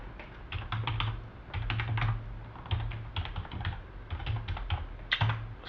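Someone types a login password on a computer keyboard, giving quick clusters of light key clicks in uneven bursts with short pauses, close-up and quiet, with no talk.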